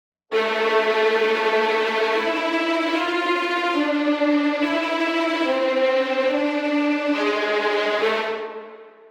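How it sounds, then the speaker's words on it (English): Strings play a rapid bowed tremolo, a shimmering, agitated texture sustained across several held chords that change every couple of seconds, ending with a fade. "Tremolo is a special technique where the players move the bow back and forth at 16th notes or even faster"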